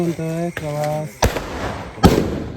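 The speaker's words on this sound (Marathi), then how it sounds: "बाहेर बघा कसले वाजवायला सुरुवात झालेली आहे आटम बॉम्ब" Atom bomb firecrackers bursting outdoors at a village Tulsi Vivah celebration in Konkan: two loud, sharp blasts about a second apart, each leaving a crackling tail, after a brief voice and tone at the start.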